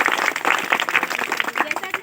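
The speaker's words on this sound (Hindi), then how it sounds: "इस गणतंत्र दिवस पर ताली तो बजाओ, बड़ा अच्छा लगता है।" Dense applause from a crowd clapping for a Republic Day celebration, steady overlapping claps filling the whole stretch at close range.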